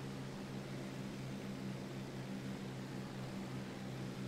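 A P-40 propeller fighter drones in flight in a World War II air combat game, its engine a steady, unbroken hum with a rough airy roar over it, continuous and even throughout.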